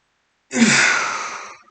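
A person attempts a sneeze that never fully comes: a single sharp intake followed by a long breathy, fading exhale, close and alone.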